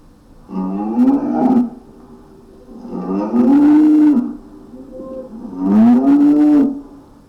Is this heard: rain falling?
no